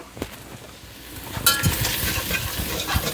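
Flour cooks into a roux with vegetables in a pan for clam chowder, giving a steady sizzle with stirring and occasional scrapes of a utensil, close and without talk.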